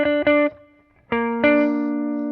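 Jazzy blues ninth chords played on an electric guitar, several clean strummed hits with sustained ringing tones and a short pause between groups, fairly loud with no talking.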